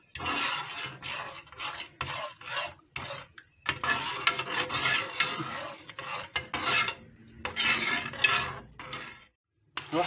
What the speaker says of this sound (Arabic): نقلب بقى على البارد كده